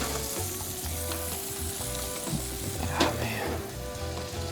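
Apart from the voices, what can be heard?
butter and crab sizzling in a cast iron pan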